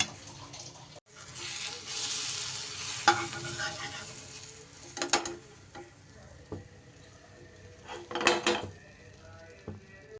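A fish omelette fries in oil in a pan, giving a quiet continuous sizzle with occasional sharper crackles and spatula scrapes. No one speaks.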